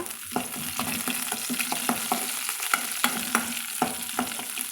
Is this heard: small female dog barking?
no